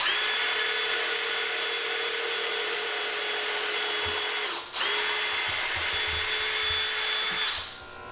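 A power drill whirs steadily and close while driving screws into 2x4 lumber for a rolling workbench base, stops for a moment, spins up again, then winds down.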